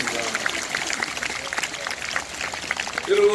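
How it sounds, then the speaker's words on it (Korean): Applause from a church congregation at a Christian worship rally in Gyeongnam, a broad wash of clapping under a busy crowd murmur, with a brief tonal sound near the end. "우리 한 박수로 한번 서로 위로해 주시기 바라겠습니다."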